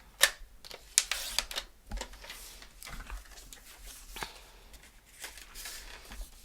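Cardstock is trimmed for a handmade spooky card, with a few sharp clicks and a brief sliding scrape near the start, then soft, intermittent paper-handling sounds close by.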